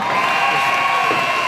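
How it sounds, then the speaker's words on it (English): Loud, continuous crowd roar fills a high school gym as basketball fans cheer through a home game between Darien and New Canaan, a dense wall of voices without pause. "the fans are getting very loud here"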